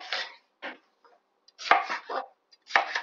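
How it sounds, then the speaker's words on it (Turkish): A knife coarsely chops red kapya peppers in close, crisp clusters of cuts separated by short silent pauses. "Kapya biberlerimizi de doğradık."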